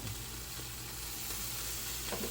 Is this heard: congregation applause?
no